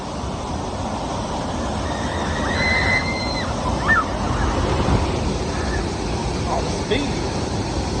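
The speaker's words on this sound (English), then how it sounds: "Just listen to the roar of that water." Roaring, rushing water from the rapids ride at Liseberg amusement park in Gothenburg, Sweden, sounds as a loud, steady broadband wash throughout, with faint whistle-like tones and brief clatters on top.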